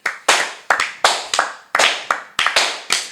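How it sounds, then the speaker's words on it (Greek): Loud clapping at the close of a Greek podcast episode, with sharp bursts of hand claps in quick irregular clusters, each fading before the next, close and without voices. "Δυνατό χειροκρότημα."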